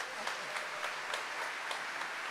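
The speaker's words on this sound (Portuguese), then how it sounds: "Pode aplaudir isso em nome de Jesus." A church congregation applauding during a sermon, a faint, continuous wash of clapping with a regular rhythmic pulse running through it.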